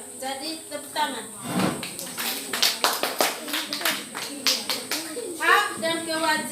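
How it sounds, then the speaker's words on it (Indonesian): Children in a primary classroom clap their hands in short uneven bursts, sharp claps scattered among voices talking. "jadi tepuk tangan."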